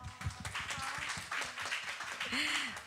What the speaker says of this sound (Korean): 우리 간사님께 박수 한번